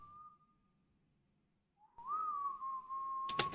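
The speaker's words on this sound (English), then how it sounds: "Someone's whistling." Whistling inside the Portal 2 video game, a clear single tone held steadily, breaking off briefly and then resuming with a slight upward slide, near and fairly quiet, ending with a short burst of noise.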